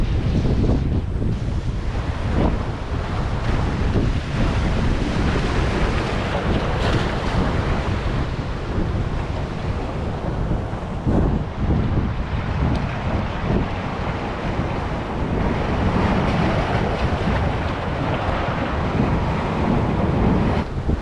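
Strong wind roars across the microphone over crashing surf at the shore in Tenerife, Canary Islands, a constant loud rush with gusty bursts throughout.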